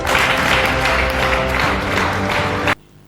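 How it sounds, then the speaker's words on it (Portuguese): An audience applauds for Jesus Christ with loud, dense clapping and crowd noise that stops abruptly near the end, leaving quiet. "Aplaude para Jesus Cristo"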